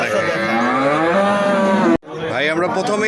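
A dairy cow, a Holstein Friesian, moos loudly and close at a cattle market: one long drawn-out low, a brief break, then a second moo starting up.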